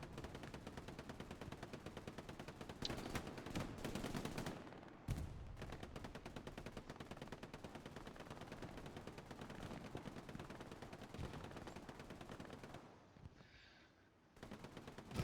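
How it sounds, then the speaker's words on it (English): Sustained machine gun fire in the Hell Let Loose World War II shooter, a rapid, continuous rattle of automatic bursts lasting many seconds, fairly faint overall, with a brief pause near the end. "A lot of MG fire coming out from Crafty here."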